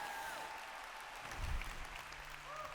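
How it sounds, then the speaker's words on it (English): An audience applauds faintly and steadily at a presentation, a soft diffuse patter of many hands heard from a distance. "Give our AV a round of applause, you guys."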